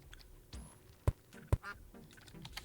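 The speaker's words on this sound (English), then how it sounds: "That duck sounds like a man saying quack." A few short, sharp duck quacks from the video game Terraria ring out with pauses between them, over faint background noise.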